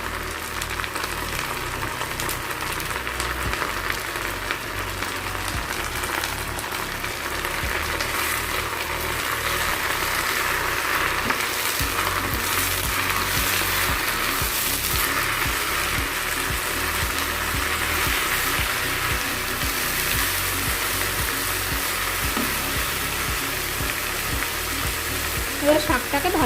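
Jute leaf greens, seasoned with salt and turmeric, fry in a pan with a continuous close sizzle and occasional stirring scrapes, steady for the whole stretch.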